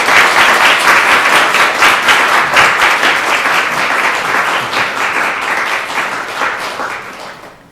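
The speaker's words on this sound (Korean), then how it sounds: "우리 큰 박수로 맞이하겠습니다." A church congregation at a Sunday worship service claps loudly to welcome a visiting pastor, dense sustained applause filling the room before tapering off at the end.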